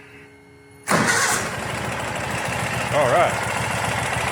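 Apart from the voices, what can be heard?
engine cranking and starting after fuel system service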